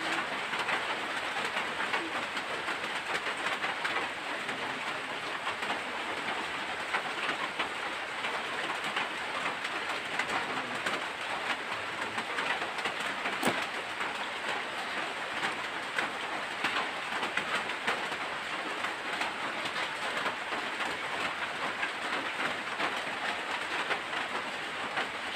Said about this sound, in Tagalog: Lakas po talaga ng mga ulan mga idol. Hindi tumitigil po, bugso-bugso.